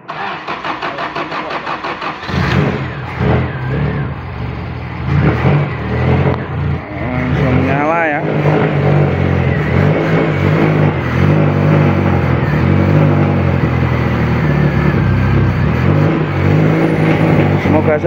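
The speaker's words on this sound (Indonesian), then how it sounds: "Ya, kita coba starting. Semoga saja mau nyala ya." A Honda Civic LX engine starts after a cylinder head gasket replacement: a brief cranking whir catches, then settles into a loud, steady close-up idle with a short rev, while a person talks near the start.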